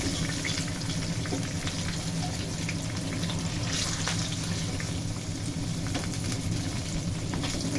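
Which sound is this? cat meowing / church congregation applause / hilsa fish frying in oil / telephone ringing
hilsa fish frying in oil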